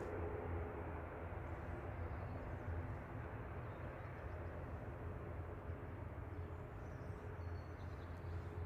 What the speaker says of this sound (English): Ryanair is now lining up.